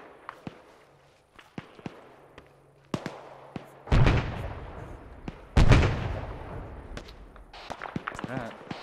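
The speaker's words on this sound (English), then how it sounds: "Those hand grenades?" Hand grenade explosions in the video game ArmA 3, two heavy booms a couple of seconds apart, each with a long rolling decay, among scattered distant gunshots and footstep-like clicks.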